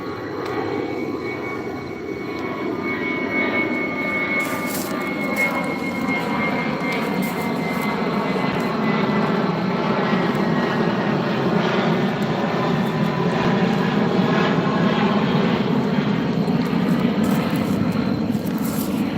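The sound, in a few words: airplane flying overhead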